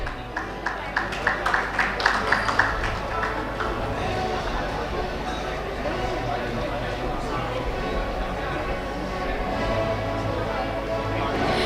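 A crowd claps at an awards ceremony during an urban infrastructure and rail summit. The clapping is loud and dense at first, then settles into a steady roomful of applause mixed with chatter.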